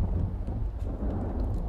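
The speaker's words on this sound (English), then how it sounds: "Does the house usually shake this much in this thunderstorm?" Deep rumbling thunder rolls continuously with a low, shaking boom under a steady wash of rain in the horror video game Devour.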